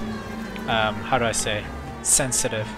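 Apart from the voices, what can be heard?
police car siren in video game LA Noire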